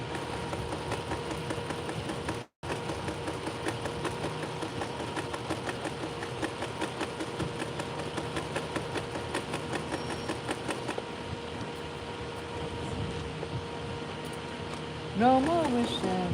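A sewing machine stitching sleeves back onto a hoodie: a continuous fast mechanical whir with a rapid needle rhythm, close and steady, briefly cut once, with a faint voice near the end.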